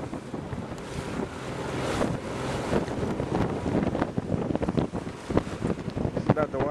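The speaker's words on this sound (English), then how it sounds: "The wind seems to have picked up even more." Strong wind at sea buffets a sailing boat, a continuous loud roar with gusting microphone noise and the wash of waves running throughout without pause.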